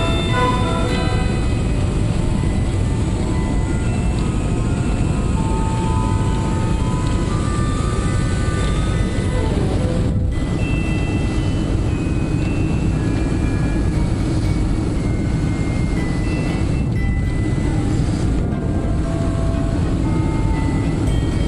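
Airliner cabin during landing approach at Narita Airport, Tokyo: a steady broadband engine and airflow roar, fairly loud and continuous, with a couple of brief dips and shifts as the aircraft descends in light turbulence.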